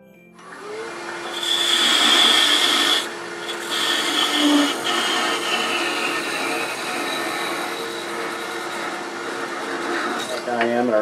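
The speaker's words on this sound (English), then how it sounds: "Leapfrog each parting cut so it doesn't bind." Wood lathe making parting cuts while turning a chickadee ornament, a continuous rasping scrape of the tool on spinning wood with shifting tone as the cut deepens, close and fairly loud.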